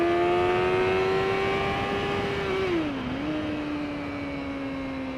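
A 2018 Suzuki GSX-R 600 sportbike engine pulls hard in a higher gear with a loud, steady high-pitched whine, dips briefly as it shifts, then keeps droning on alone with no talk.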